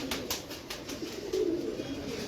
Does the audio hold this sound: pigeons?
yes